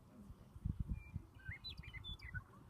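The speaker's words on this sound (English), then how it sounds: "another one of the blackbirds that we've got is the meadowlark" A meadowlark sings a short run of clear, bright whistled notes, slurring up and down, over low background rumble and faint murmuring.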